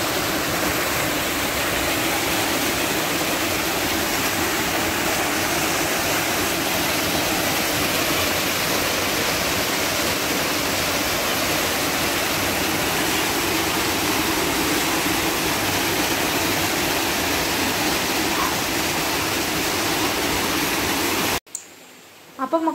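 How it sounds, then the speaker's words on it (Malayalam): Waterfall near Kottakkal in Malappuram, a dense, continuous roar of falling water heard close and loud throughout, cutting off abruptly near the end. "ഇതാണ് കേട്ടോ നമ്മളെ വെള്ളച്ചാട്ടം"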